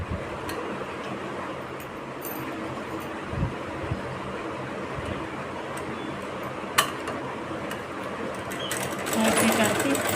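A sewing machine runs steadily while stitching piping onto a blouse, its fast, even mechanical whir continuous throughout with a few faint clicks and a brief louder stretch near the end.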